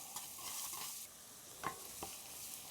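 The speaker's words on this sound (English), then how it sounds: "just want to start frying these onions off and start to get them to that translucent stage" Onions frying in a pan with fat left from cooking meatballs, a steady soft sizzle with a few sharp scraping stirs near the end, no voices.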